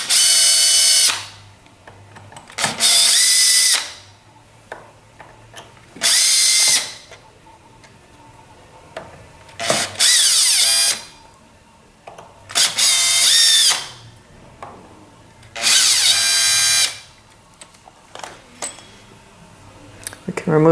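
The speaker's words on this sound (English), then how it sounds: "we can use a Phillips head screwdriver to remove the 6 screws that secure that plastic plate that covers the PCB" A power drill with a Phillips bit backs out six screws holding a plastic cover plate over a circuit board, in six loud, separate whirring bursts of a second or so each, with quieter clicks and handling noises between them.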